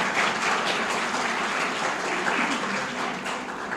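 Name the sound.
audience applause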